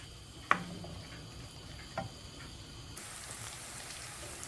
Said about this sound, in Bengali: করলা ভাজির জন্য অনিয়ন ফ্রাই বসাইলাম।